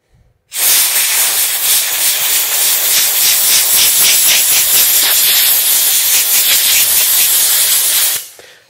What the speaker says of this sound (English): Drying it with forced air is the best.